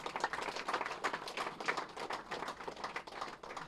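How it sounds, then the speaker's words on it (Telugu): An audience bursts into a dense round of applause for a revered spiritual master at a pyramid opening event, steady overlapping claps filling the hall at moderate distance for several seconds. "ఆ గ్రేట్ మాస్టర్కి ఒకసారి గట్టి క్లాప్స్ కొడదాం."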